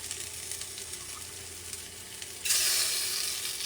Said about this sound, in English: Now you're going to put some tomato paste, okay?